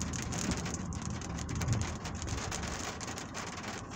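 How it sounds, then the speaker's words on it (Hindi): Heavy rain in Riyadh drums steadily on a hard surface nearby, a dense unbroken patter with no talking. "बारिश शुरू हो गई है,"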